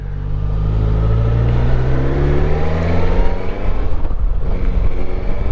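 A 2022 Suzuki GSX-S1000GT+ four-cylinder motorcycle engine revs loud and close, its deep, even drone climbing and falling through several throttle blips without any talk.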